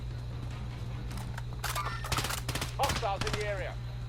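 Rapid bursts of automatic gunfire in a shooter video game, clustered volleys popping over a steady low hum, with voices chattering faintly underneath.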